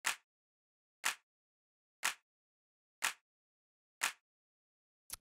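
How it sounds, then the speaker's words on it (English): Clean, simple clap sample played six times at an even one-per-second pace, each a sharp dry hit with a short tail and silence between. "And then the next thing that I have here is this clap,"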